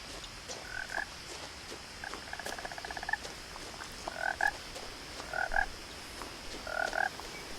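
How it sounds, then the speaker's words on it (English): Frog croaking in the video game What Remains of Edith Finch: repeated short, raspy croaks in spaced bursts, with one longer rattling croak, over a soft ambient hiss and no talking. "There's gotta be a frog around here somewhere."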